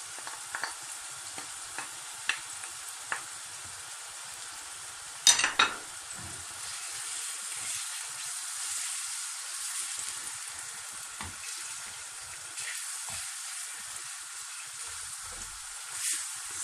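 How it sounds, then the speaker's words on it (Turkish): Ground meat sizzles and fries steadily with tomato paste and spices in a pan, a soft continuous hiss with a clatter of stirring partway through and faint scraping. "Salçanın güzelce kavrulması lazım."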